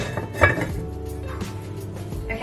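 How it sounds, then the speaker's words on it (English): A lid goes onto a large dish of chilli con carne with bay leaves, giving a close clink and clatter of cookware, a sharp knock near the start, then a few lighter taps. "Pop a lid on, and it's time to pop it in the oven."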